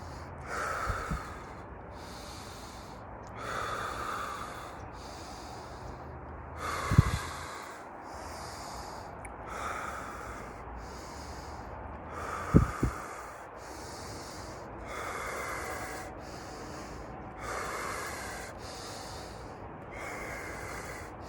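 Deep rhythmic breathwork breaths, forceful inhales and exhales repeating roughly every second or so, close and hissing against a soft ambient backdrop, with a couple of louder sharp intakes.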